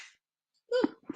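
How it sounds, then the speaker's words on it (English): A single sneeze from a person recapping Premier League football, breaking out abruptly after near silence, with a brief voiced intake and then a sharp burst, followed by the start of talk. "Oh, I have to sneeze."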